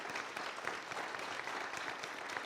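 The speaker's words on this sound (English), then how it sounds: "Can I get one more round of applause for them?" Audience applause for panelists at a health conference, a dense, even wash of clapping from a crowd, steady and somewhat distant.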